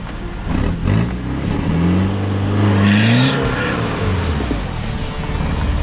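Tub chop off-road car on sticky tyres revving hard while trying to find grip in the dirt, a close, loud engine that rises and falls in pitch across several seconds, with no talk.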